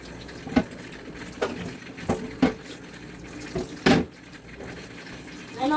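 Tomatoes are washed under a running kitchen tap, with several short splashing bursts and clatters of water and fruit in the sink, close by and moderately loud.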